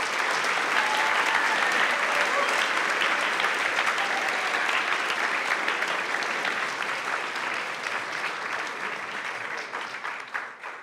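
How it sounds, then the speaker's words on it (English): A hackathon opening ceremony audience gives sustained applause for the event volunteers, dense clapping that stays loud before slowly fading toward the end. "would you join me in a round of applause for the volunteers who've been working the past 3 months?"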